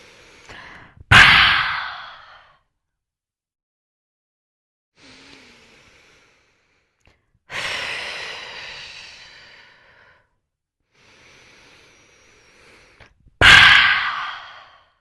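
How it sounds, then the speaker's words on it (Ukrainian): Deep breaths during a breathing exercise: three loud, close exhalations, each long and fading, separated by quieter inhalations and stretches of near silence. "Робимо вдих, видихаємо, вдих,"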